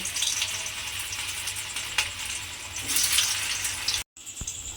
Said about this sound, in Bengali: এবারে আমি এই ধোকাগুলোকে একটা একটা করে তেলের মধ্যে দিয়ে দেব দিয়ে ধোকাগুলোকে আমি একটু লাল করে ভেজে নেব